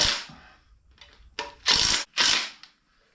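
A power tool snugs up bolts on a rat rod Camaro in short bursts: a trailing whir, then two or three quick loud rattling runs separated by brief pauses, close by.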